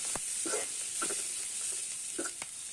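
Shrimp frying with onions for a breakfast dish, a steady close sizzle with a few soft stirring scrapes and clicks of a utensil in the pan.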